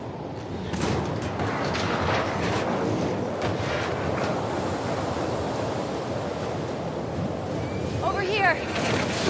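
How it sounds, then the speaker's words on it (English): Stormy wind gusting in The Last of Us Part II, a steady broadband roar filling the whole stretch with surging gusts, sometimes mixed with faint talk, plus a brief rising whistle near the end. "It's pretty windy"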